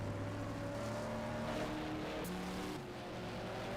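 A 1972 Formula 5000 race car engine at Brands Hatch during a BRSCC round, a steady far-off engine drone with a smooth shift in pitch partway through, faint and alone.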